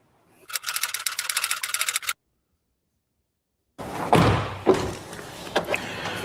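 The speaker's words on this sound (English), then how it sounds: "then I can shut the door, just see if the gap on the doors come back" A car door is shut after dent repair work, giving a few heavy, close thuds and slams that follow an earlier buzzing rattle and a stretch of silence.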